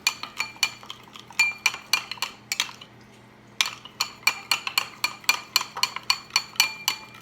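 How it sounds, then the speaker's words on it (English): A spoon clinks steadily against the sides of a bowl while stirring a no-bake keto strawberry cheesecake mixture thinned with a little cold water; rapid repeated taps pause briefly midway, then resume, close and fairly loud with no talking. "I will use the same spoon. Mix it thoroughly."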